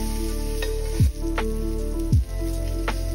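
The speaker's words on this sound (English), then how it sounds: "in a hot cast iron skillet with some oil, sear your steaks for 2 to 3 minutes" Steaks searing in oil in a hot cast iron skillet give a loud, steady sizzle, broken twice by a brief dip and surge as the meat shifts in the pan.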